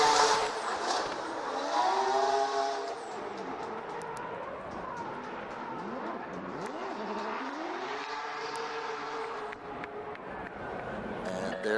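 A Mazda RX-8 drift car at a Motegi drift competition, engine revving and tires squealing with rising and falling pitch sweeps, heard at a distance under an announcer's commentary.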